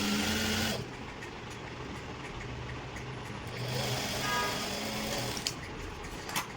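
A sewing machine runs steadily, stitching the seam of a pair of pants at a tailoring boutique, with a continuous mechanical whir that slows briefly midway and then picks up again.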